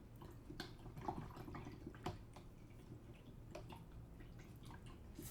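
A paintbrush being rinsed in a jar of water after gouache painting, giving soft, quiet splashes and drips at close range, irregular and alone.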